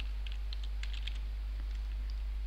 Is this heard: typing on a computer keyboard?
yes